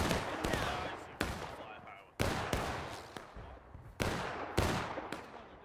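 Musket volleys in the Civil War game War of Rights, repeated loud cracks from a firing line at irregular intervals with overlapping reports and battlefield noise.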